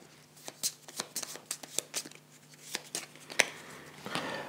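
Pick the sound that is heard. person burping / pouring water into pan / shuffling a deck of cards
shuffling a deck of cards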